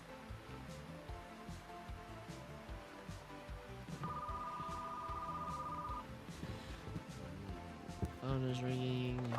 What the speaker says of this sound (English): Phone is ringing.